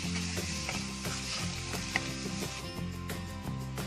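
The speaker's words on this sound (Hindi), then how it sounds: "रेड चिली पाउडर, सॉल्ट और इसको मिक्स कर लेंगे और 2 मिनट्स के लिए सौटे कर लेंगे।" Masala with red chili powder and salt sautés in a kadai for mushroom curry. A steady close sizzle and frying hiss runs throughout with light stirring scrapes, over soft background music.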